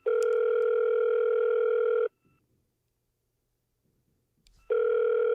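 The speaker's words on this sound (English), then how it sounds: "Yeah, it's just ringing." A telephone call rings out as a steady ringback tone: one long, loud tone, a silence of about two and a half seconds, then the next tone starting, with nothing else heard between.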